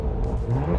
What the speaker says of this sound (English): A little exhaust check with sport on